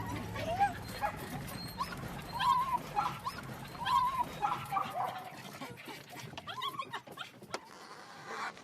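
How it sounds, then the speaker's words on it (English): Small terrier-type dogs hunting rats on a chicken farm, giving excited yips, short barks and whimpers in irregular bursts, fairly close, with some panting and scuffling between them. "The excitement of watching the little dogs work."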